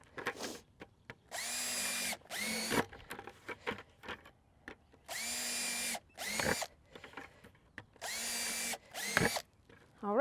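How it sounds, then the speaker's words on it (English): A power drill with a large bit bores drainage holes in a plastic garden container, sounding in three loud whining bursts of a few seconds each, separated by pauses with clicks and handling noise. "I'm using a large drill bit just because I don't want to make a million holes."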